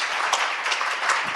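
Loud, dense applause from a conference audience at a government digital-strategy session, a continuous wash of many hands clapping with no break through the brief moment.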